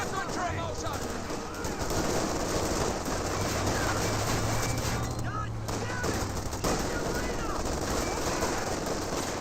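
Bursts of machine-gun and rifle fire directed at infantry in a Company of Heroes 2 battle crackle continuously at mid-distance, layered with battlefield clatter and background voices.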